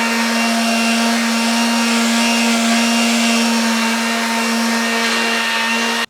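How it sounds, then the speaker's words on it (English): A sander fitted with a coarse Scotch-Brite pad runs against aluminum to clean it before welding, giving a loud, steady motor whine with a constant hum that holds unbroken and stops abruptly at the end. "Now on aluminum, I like to just put a piece of Scotch-Brite on a sander, right?"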